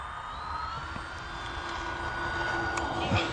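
A Flightline F7F Tigercat RC plane's electric motors whine steadily as the throttle rises, the pitch climbing slightly over a broad rushing hiss, close and continuous, with a person speaking.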